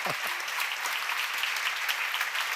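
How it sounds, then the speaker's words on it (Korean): A seminar audience at a church gathering applauds in a continuous, even patter of many hands, somewhat distant and moderately loud. "박수 쳐봐"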